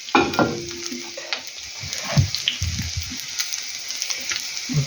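Zucchini and potato fritters frying over low heat in a pan, a steady soft sizzle with faint crackles and a few light scrapes and taps, close and moderately quiet with no talking.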